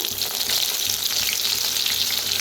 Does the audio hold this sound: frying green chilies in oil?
yes